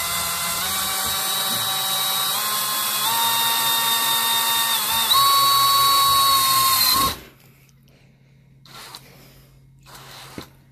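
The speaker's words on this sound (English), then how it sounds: "So we'll see if I can even remotely attempt to drive this screw in here." Milwaukee 1/4-inch hex angle driver whining steadily at high speed for about seven seconds as it drives a screw, its pitch shifting slightly under load before it stops abruptly, leaving a quiet room.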